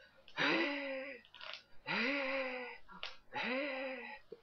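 A voice imitates expiratory dyspnea, laboured breathing with a long, strained exhale, in three drawn-out groaning breaths with short inhales between, close and fairly quiet.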